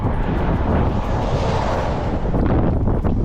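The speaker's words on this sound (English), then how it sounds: "A little bit of a headwind today, so we've been drafting all morning." Headwind roars across the microphone on a bicycle touring ride along a busy road with a wide shoulder near Pueblo, a steady, loud rushing buffet that never lets up.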